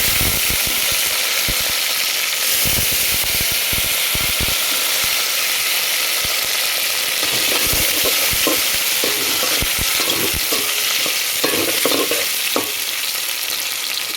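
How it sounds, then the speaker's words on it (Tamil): Shallots, garlic and tomatoes sauté in a hot pan, giving a continuous loud frying hiss with scattered clicks and scrapes of stirring throughout. "எல்லாத்தையும் போட்டு வதக்கிக்குவோம்"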